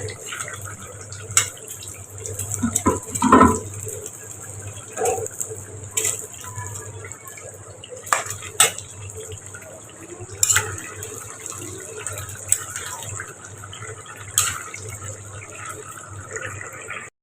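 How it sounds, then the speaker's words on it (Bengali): Water for broth is poured into a spicy home-style duck curry simmering in a pot, a close, uneven gush with scattered clinks and stirring knocks over a steady background hum and a thin high whine. "নাড়াচাড়ি করে আমি ঝোল দিয়ে দিই।"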